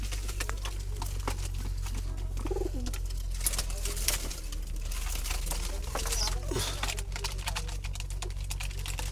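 Black Jalali pigeons kept in a basket, cooing softly a few times amid a busy, noisy background with a steady low hum and scattered clicks and rustles.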